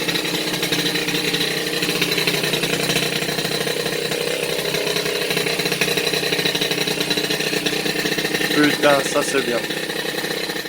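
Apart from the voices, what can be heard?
rebuilt 103 RCX moped engine running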